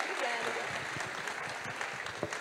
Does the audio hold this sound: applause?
yes